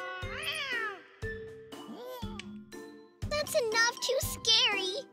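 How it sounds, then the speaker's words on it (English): A cartoon cat meows repeatedly in a children's animated story, with several drawn-out, pitch-bending meows and a light jingle, followed by a childlike voice speaking. "There was a cat inside the fridge."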